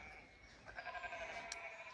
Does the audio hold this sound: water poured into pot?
no